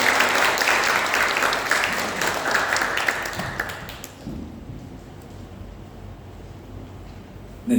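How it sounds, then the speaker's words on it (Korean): A burst of church congregation clapping during a worship service, dense and lively, runs for several seconds and then fades out, leaving a quiet room. "우리 축복의 박수로 하겠습니다."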